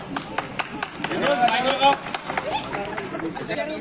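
Scattered applause at a local Telangana formation day prize-giving ceremony, a few hands clapping in short bursts amid crowd chatter and a nearby voice.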